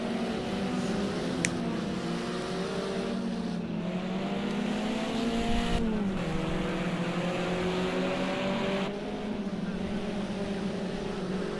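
Engines of several race cars in a snow championship racing game at a virtual Oschersleben circuit, a continuous layered drone with rising and falling pitches, steady and loud throughout with no voices over it.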